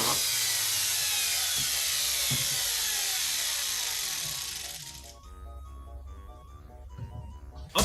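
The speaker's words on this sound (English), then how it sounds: "I have not used this miter saw before, so if anything goes wrong, this will be where it is." A miter saw runs loud and steady in a workshop for about five seconds, whining and buzzing as it cuts, then winds down into a fainter low hum with a few knocks and a sharp clunk at the end.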